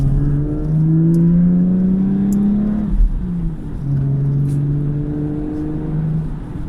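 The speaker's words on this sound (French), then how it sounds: "ça va vous permettre de vous montrer un peu l'accélération de la voiture" A car engine revs up under load climbing a steep hill, pitch climbing steadily, drops briefly at a gear change, then pulls hard again, close and continuous.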